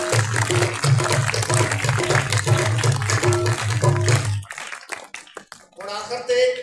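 A congregation at an Easter prayer service claps loudly for about four and a half seconds, a dense wash of hands over a low sustained tone, which breaks off into scattered sounds and a voice.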